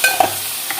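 A spoon stirring okra and tomato pieces in a pan over low sizzling, with a couple of brief scraping strokes in a short, close clip and no talk.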